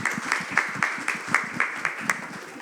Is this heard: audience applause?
yes